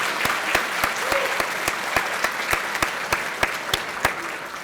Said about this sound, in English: I would ask that you join me in a round of applause for the Kecoughtan High School Jazz Ensemble